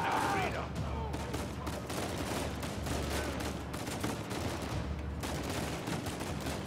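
Gunfire in the video game Uncharted 4: A Thief's End, a steady dense stream of shots and noisy combat ambience at moderate level, with a voice speaking briefly over it.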